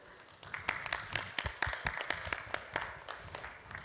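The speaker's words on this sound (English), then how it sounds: "a round of applause for the entire team who has done this up" Clapping from an audience at a product launch event, a short burst of distinct, fairly close handclaps landing in a quick uneven rhythm, loud at first and thinning slightly toward the end.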